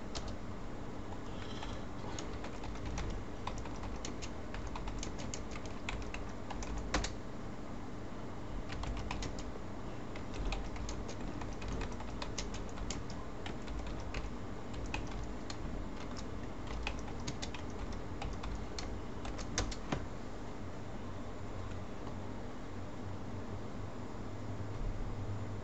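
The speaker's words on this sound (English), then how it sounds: "I gotta type sideways." Rapid, light clicking of a computer keyboard being typed on runs continuously, soft and close against a steady hiss of background noise.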